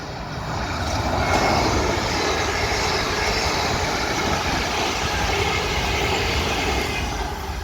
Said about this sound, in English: Here we have a service to Portsmouth Harbour.